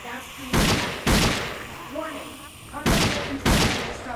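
Four loud pistol shots in Dead Effect, fired as two quick pairs separated by a pause, with someone talking quietly in between.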